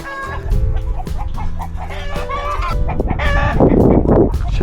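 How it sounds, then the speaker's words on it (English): A large flock of ranch chickens clucks and squawks close by, with overlapping calls and a rooster crowing partway through, busy and loud throughout. "Chickens are loving life out here."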